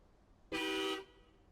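A single short, loud truck horn honk in the off-road driving video game SnowRunner, a steady tone lasting about half a second with no talking.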